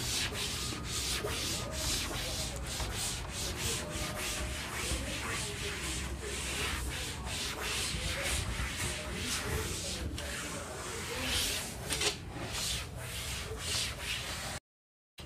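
Writing is rubbed off a classroom board during a physics lecture: a steady, dense scrubbing and rubbing that runs close and continuous for about fourteen seconds, then stops abruptly.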